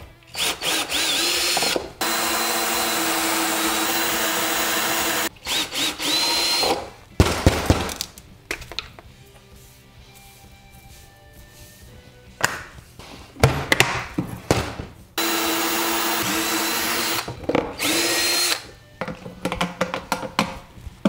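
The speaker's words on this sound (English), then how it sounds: "we're just gonna drill out a pilot hole and then we'll use this step bit" A power drill bores holes with a step bit while building a compact 100Ah LiFePO4 solar generator, several loud whirring bursts of a few seconds each, separated by quiet pauses with small clicks and handling.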